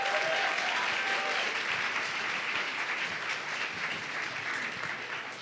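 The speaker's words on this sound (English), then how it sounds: "I'd love to give you a round of applause." An audience at an evening social impact fellows event in Austin, Texas applauds steadily, a dense sustained patter of many hands clapping that fades slightly toward the end.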